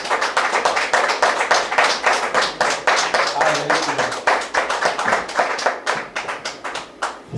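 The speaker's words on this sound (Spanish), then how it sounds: "Le damos unas palmas a Dios." Rhythmic hand clapping from a church congregation during a Spanish-language sermon, steady and fairly loud claps repeating throughout, with a voice speaking over them.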